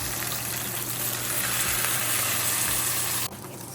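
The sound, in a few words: bangus (milkfish) frying in leftover oil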